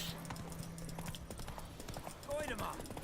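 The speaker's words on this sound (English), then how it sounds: "Do you like my new horse?" Horse hooves clip-clop at a steady walking rhythm in The Witcher 3, with a brief whinny near the end, all under a person's ongoing talk.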